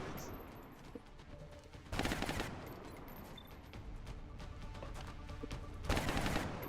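Suppressing fire in XCOM Long War comes as two loud sustained bursts of automatic gunfire, one early and one near the end, with softer battlefield noise in between.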